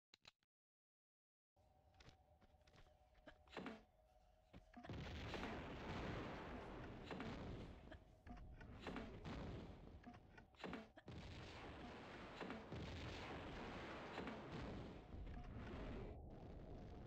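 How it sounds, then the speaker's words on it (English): A grenade launcher fires in Tomb Raider 2, repeated heavy booms and explosions rolling loudly one after another after a brief quiet start, with no talking. "Do I want to try the grenade launcher again?"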